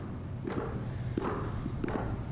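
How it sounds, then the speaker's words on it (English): Footsteps of the US vice president-elect descending stone stairs from the Capitol crypt during the presidential inauguration, a steady series of hard, moderately loud thuds and heel strikes over a busy crowd background. "We can hear the footsteps of VP-elect Harris coming down the stairs from the crypt."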